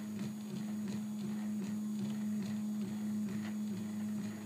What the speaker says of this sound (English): so it's actually pulling the filament. That's just pretty strong motor right there.